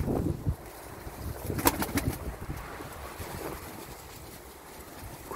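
Pigeons cooing in a loft, soft low throaty coos repeating over a steady background hiss, with a few sharper bird calls and rustles mixed in, moderately near and no talking.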